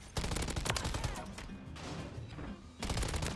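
Rapid automatic gunfire from the Tac Eradicator in Modern Warfare 3, sustained loud bursts that briefly ease before a fresh volley, with game action underneath.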